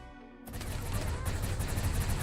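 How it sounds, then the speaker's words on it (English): Dense, continuous gunfire from a RimWorld firefight, loud and sustained, with rapid overlapping shots forming a steady roar after a brief quieter lead-in. "They're finally shooting back at us."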